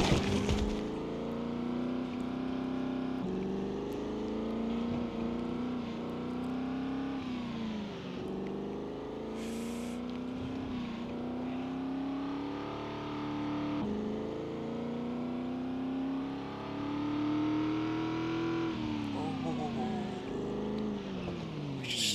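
Car engine in Project Zomboid driven fast, a steady loud drone with rising and falling revs as it accelerates and shifts, continuous throughout with no pauses.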